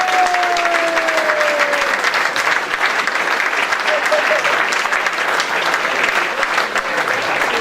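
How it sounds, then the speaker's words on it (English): Guests at a football club's player of the year awards night give a former player a long, steady round of applause, loud and sustained throughout with a faint tone at the start. "What about a round of applause for Jeff?"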